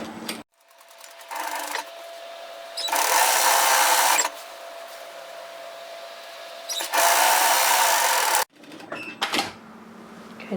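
A sewing machine runs a 1 cm seam along a dress shoulder, stitching in several separate bursts of steady whirring with short pauses between them. There is no talking.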